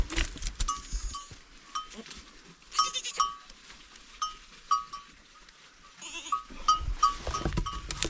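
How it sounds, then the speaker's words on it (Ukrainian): Several high, thin bleats from two newborn goat kids on a mountain farm, repeated in short bursts through quiet stretches, with faint clinking like a small bell nearby. "Ось дивіться, такі дві маленькі новонароджені козенята."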